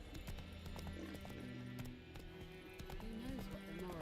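Horse hooves in Witcher 3 clip-clop in a steady rhythm close by, layered over sustained game music tones, with no talking.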